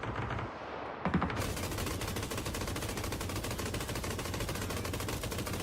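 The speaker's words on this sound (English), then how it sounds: "M249." An M249 machine gun fires in a video game, a loud sustained burst of rapid, evenly spaced shots that starts after a brief lull and continues to the end, with no talking.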